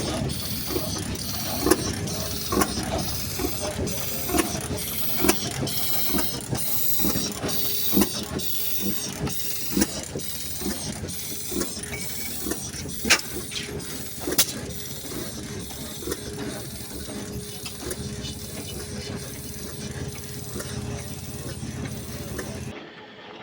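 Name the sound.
antique steam engines running at a steam engine show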